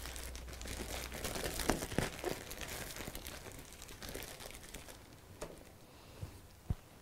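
A plastic rubbish bag being handled during hotel guest-room housekeeping, giving soft crinkling and rustling with a few sharper crackles, faint and fairly close, with no talk over it.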